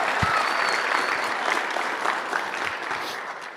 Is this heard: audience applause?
yes